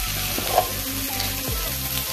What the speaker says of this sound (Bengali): এই দেখুন মশলাটা কিন্তু একটু ভাজা ভাজা হয়ে এসেছে।